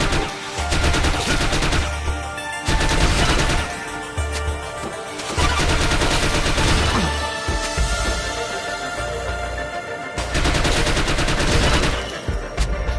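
Bursts of rapid gunfire from The Mummy Demastered come in repeated volleys, loud and dense, with a game soundtrack underneath and no talk.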